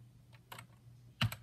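A few soft, close keystrokes on a computer keyboard while a password is entered, ending in a couple of slightly louder taps over a low hum.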